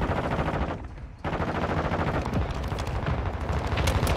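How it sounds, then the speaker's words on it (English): Dense, loud automatic gunfire from the video game Warzone 2.0 rattles in rapid continuous bursts, broken by one brief pause and then resuming heavily to the end. "Oh, I got shot. I'm getting shot at."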